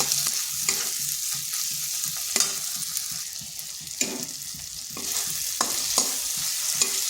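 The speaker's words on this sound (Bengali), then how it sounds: "মশলাটা একটু কষে নিচ্ছি।" Bengali spice paste (masala) with green chillies frying in a pan for a cabbage and egg curry, a steady sizzle broken by irregular sharp scrapes of the stirring spoon, close and alone.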